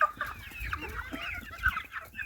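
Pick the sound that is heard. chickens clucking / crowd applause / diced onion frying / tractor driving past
chickens clucking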